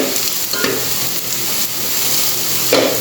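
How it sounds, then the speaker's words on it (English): Onion and tomato sauté in a pan for a Goan crab bafat, giving a steady close sizzle with a few scraping stirs of the spoon and no talk. "Now we will saute it till it becomes nice translucent"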